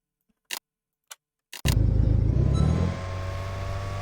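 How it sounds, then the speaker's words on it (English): Loud vehicle engine in the SCP: Secret Files video game: a few sharp knocks, then a heavy engine roars to life abruptly and keeps running with a deep, steady rumble that eases slightly in level. "That is a loud vehicle."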